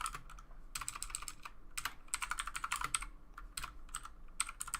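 Keys clatter on a computer keyboard during a coding session, a steady stream of quick irregular taps with short pauses, close and fairly quiet, with no talking.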